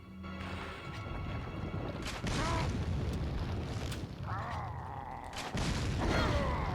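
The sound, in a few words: explosions in video game Resident Evil Village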